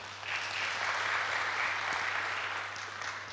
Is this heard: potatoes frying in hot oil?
no